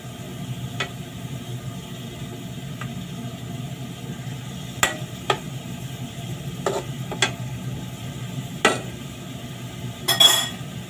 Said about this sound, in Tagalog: kailangan haluin mo na kunti hanggang sa maluto